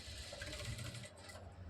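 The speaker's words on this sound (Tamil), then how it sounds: "அந்த இடத்துல ஓரத்தில் நம்ம வந்து இந்த மாதிரி தையல் போட்டு எடுத்துக்கிறோம்." Sewing machine running a seam along the edge of a blouse band, a steady close mechanical whirr with rapid needle ticking throughout the short stretch, no voices.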